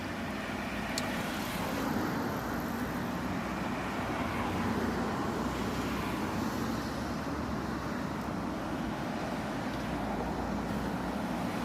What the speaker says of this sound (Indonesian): Hati-hati di sini kendaraan soalnya melaju dari belakang kita